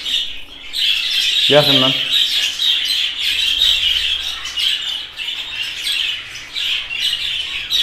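Pet birds in a breeder's aviary squawk and chirp continuously with a steady high-pitched chatter, close and loud, while someone speaks briefly over them.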